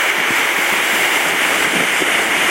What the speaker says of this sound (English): It's caused by the falling water pushing the air aside.